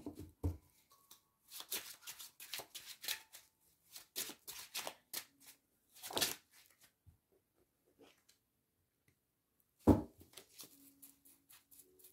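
A deck of tarot cards is shuffled close up in quick riffling bursts and soft flicks, with a few pauses between runs and a louder slap of cards near the end.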